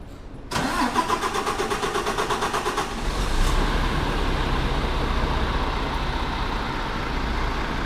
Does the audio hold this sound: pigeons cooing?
no